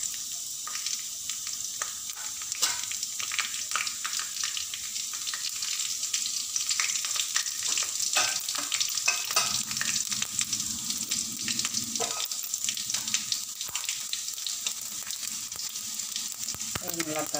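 Mustard seeds, urad dal and chana dal frying in hot oil in a pan, giving a steady, dense sizzle with scattered crackles and pops from the seeds as they splutter, close and continuous, with no talking.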